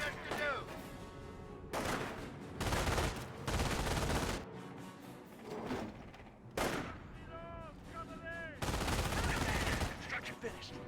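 Rifle and machine-gun fire from a US rifleman squad in a Company of Heroes 1 battle, several loud crackling bursts separated by brief lulls, with a commentator talking in between.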